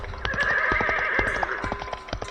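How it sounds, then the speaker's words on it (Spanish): A black horse neighs loudly in a horror tale of a headless rider, a long shrill whinny over rapid clip-clopping hooves, with no talking. "ese negro corcel se parara en dos patas y relinchara espantosamente"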